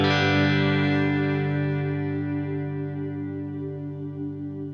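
Electric guitar played through a Headrush Vox Chime amp model with shimmer reverb, one sustained chord ringing out rich and harmonic, slowly decaying with a gentle wavering swell over several seconds, no voices.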